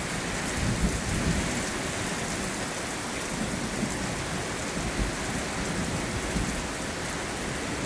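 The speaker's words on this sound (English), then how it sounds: "Raining." Steady heavy rain pours down with rolling thunder rumbling underneath, a dense, constant hiss that stays loud and even throughout with no voices.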